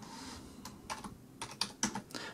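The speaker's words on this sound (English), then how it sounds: "And as I type" Typing on a computer keyboard in Notepad: a close, quiet run of uneven key clicks over about two seconds, with no voice.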